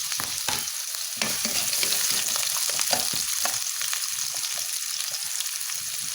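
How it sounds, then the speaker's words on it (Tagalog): Sweet potato fries in a hot pan with a steady, close sizzle and crackle, with occasional stirring scrapes and spatters and no talking. "Dito na yung kamote para maprito."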